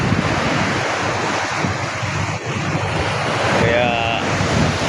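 Large waves break on a beach in overcast, stormy weather, making a continuous loud surf roar while heavy wind buffets the microphone throughout.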